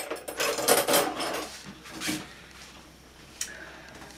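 A metal spoon clinks and scrapes against the inside of a cup while stirring a honey and lemon mixture in a short burst, then a faint lone clink follows after a pause.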